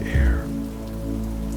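Rain patters steadily against a window glass, a soft continuous wash with one brief low thump near the start, close and even, with no voices.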